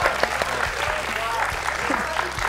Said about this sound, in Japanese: もう一度拍手お願いします。